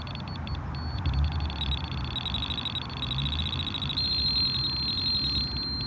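A fishing bite alarm set up for pike beeps high and electronic in repeated bursts over a steady outdoor rumble, the tones growing more continuous toward the end.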